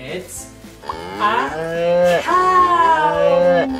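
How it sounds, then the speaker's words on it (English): A cow moos in long, deep, drawn-out calls that rise and fall across several seconds, loud and close. "cow. And a cow is white with black spots."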